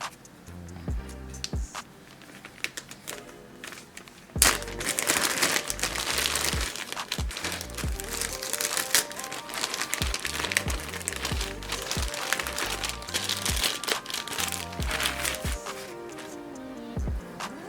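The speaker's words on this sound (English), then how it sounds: "Now I'm just basically going to take my closure out of the packaging." A hair closure is pulled from crinkly plastic packaging, giving close, loud, continuous crackling and crumpling that grows busier after a few seconds of lighter rustles, with no talk.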